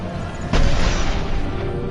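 A single muffled boom in the Mass Effect 2 video game as a tube is shot and blows up, a sudden burst that rolls on as a low rumble over steady game ambience.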